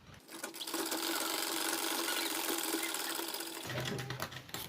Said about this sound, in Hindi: इस तरह से यहाँ से सिलाई करेंगे हम।